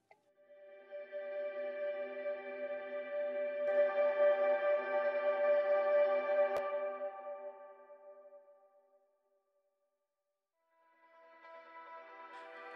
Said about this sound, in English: it's essentially a dulcimer being played, lots and lots and lots of layers of dulcimer hammered